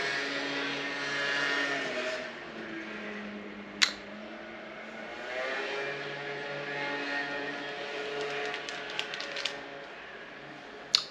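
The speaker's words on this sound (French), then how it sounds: "Moto qui passe, c'est bon?" A scooter, named by the speaker as first sounding like a motorbike, passes in the background during a leatherwork session, a broad engine drone that rises and then fades over several seconds, with a few sharp clicks and taps nearby.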